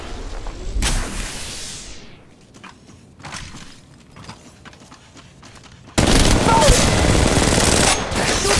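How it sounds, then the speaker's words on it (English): Automatic gunfire in the mobile battle-royale game Apex Legends Mobile: a loud burst at the start, a lull with scattered shots, then sustained heavy rapid fire that stays loud to the end. "They're shooting at me!"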